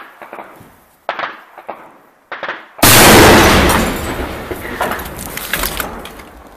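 Heavy weapon fired during an assault on the Donetsk International Airport, a single loud, sharp blast after several quieter thuds and knocks, followed by a long rumbling echo that slowly decays.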